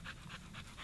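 Dog panting in a steady rhythm of four quick breaths, close by and soft, outdoors at dusk at a rural shooting range.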